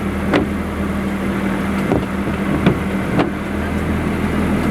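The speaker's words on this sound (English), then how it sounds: "Now here I have to change down now into the lowest gear and into first gear." A four-wheel drive vehicle's mid-pitched engine runs steadily while being shifted down into its lowest gear, a continuous drone with a few brief clunks and surges rising above it.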